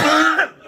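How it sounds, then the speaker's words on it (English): A person coughs and clears their throat in one short, harsh burst right after swallowing a nicotine mint, close and loud. "And I can't quit coughing."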